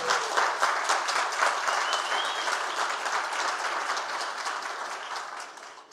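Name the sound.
audience applause for Célio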